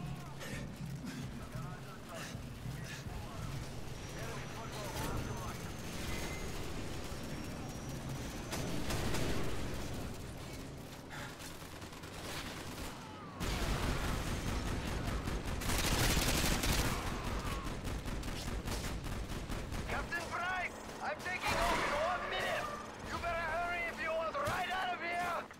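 In Call of Duty: Modern Warfare 2, gunfire from automatic weapons rattles in dense bursts and volleys, with louder stretches of heavy firing and sharp cracks throughout, and a player's voice is heard now and then beneath the shooting.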